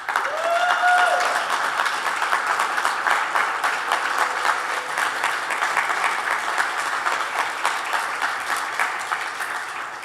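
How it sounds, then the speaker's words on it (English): Sustained applause from an audience at a community center annual meeting honoring the board of directors, even, continuous clapping that holds for about ten seconds with a faint voice at the start. "let's all offer a round of applause for their leadership and contributions to our community"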